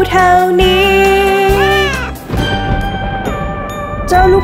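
Cartoon kittens meow repeatedly in sung, tuneful cries over a bright children's nursery-rhyme backing track, the voices loud and upfront with steady music beneath and a short dip near the middle.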